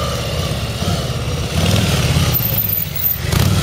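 A 2019 Harley-Davidson motorcycle engine rumbles loud and close through tight low-speed turns, its throttle rising and falling in a steady rhythmic pattern with no pause.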